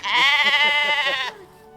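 A sheep at a sheep farm lets out one loud, close, wavering bleat lasting over a second, clear and alone with no talk.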